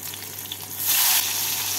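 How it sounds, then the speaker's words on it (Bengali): Chopped tomato drops into hot oil seasoned with green chillies and black cumin and is stirred in a pan. A soft sizzle swells suddenly into a loud hiss that settles to a steady fry. "টমেটোটাকে তেলের মধ্যে একটু নাড়াচাড়া করে নিচ্ছি।"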